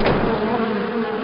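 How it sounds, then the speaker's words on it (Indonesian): A swarm of disturbed bees attacking, a dense, close, continuous buzzing drone from many insects at once, loud and steady throughout the short moment with no voices. "para kawanan lebah yang merasa terganggu menyerbu mereka"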